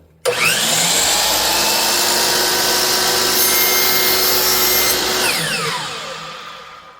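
A power saw trims a thin sliver off a wooden piece for a pencil box: a loud, steady, close whine that starts abruptly, holds through the cut, then winds down as the blade slows.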